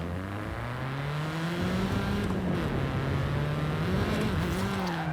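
Renault Clio hot hatch engine in Forza Horizon 5, a steady droning engine note with pitch rising and falling as the car drives and shifts, loud and continuous throughout with no talking.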